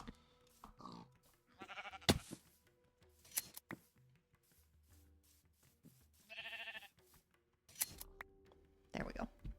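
Sheep bleat in the Minecraft video game, several short wavering calls spaced irregularly among game sounds and clicks, with a person talking over them.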